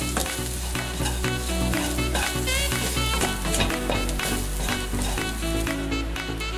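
Dried shrimp fry in oil in a wok for Pad Thai, a steady loud sizzle and crackle with scraping stirs, close up and continuous with no talking.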